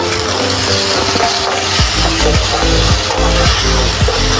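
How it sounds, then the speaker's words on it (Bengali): A ground spice paste with cardamom, cloves and cinnamon sizzles and fries in a pan for egg curry, with a steady hiss and repeated scraping strokes of a spatula at a regular rhythm. "এবারে বাটা মশলাটা আমি একে দিয়ে দেবো কষিয়ে নেব"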